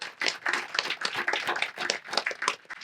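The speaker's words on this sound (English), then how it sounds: "You can applaud for her." Audience at a Veterans Day ceremony applauding for Orange County Supervisor Katrina Foley, steady dense clapping from many hands throughout.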